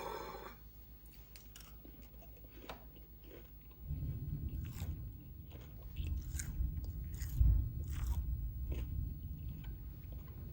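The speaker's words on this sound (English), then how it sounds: "You can hear the crunchiness." Crispy fried pork chop being bitten and chewed up close, with sharp crunches followed by continuous wet, crackling chewing.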